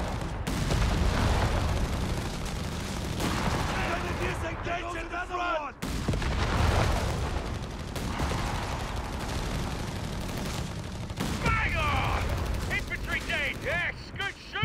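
Company of Heroes 3 40mm and 57mm guns fire in rapid repeated bursts of loud, dense gunfire, with talk running over them throughout.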